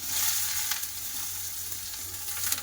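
Potatoes tipped into hot oil tempered with black cumin and a dried red chilli, giving a continuous soft, even sizzle at close range without voices.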